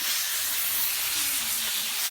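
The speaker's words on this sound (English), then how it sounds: "I use parchment paper because it's better for non-stick, and I just spray the paper" Cooking spray hisses onto parchment paper in one steady, close, continuous spray lasting about two seconds before stopping.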